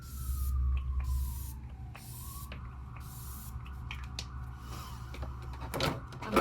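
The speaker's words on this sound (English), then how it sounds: "I'm gonna spray my face with the Pretty Fresh Hyaluronic Acid Setting Mist" Pretty Fresh Hyaluronic Acid Setting Mist sprayed onto a face, a soft breathy hiss of mist bursts over a low steady background hum, fairly close and moderate in level.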